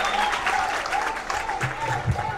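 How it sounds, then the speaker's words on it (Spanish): An audience at a Dominican public event in Sosúa applauds to welcome a speaker, a dense steady clapping throughout with faint crowd murmur and a voice briefly audible beneath. "Recibámoslo con un fuerte aplauso."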